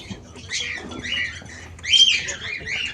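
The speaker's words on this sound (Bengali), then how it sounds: "পায়রাটা দেখুন কত সুন্দর" Caged birds, among them a white pigeon, give repeated high chirps and squawks close by, in short bursts with a louder call toward the end.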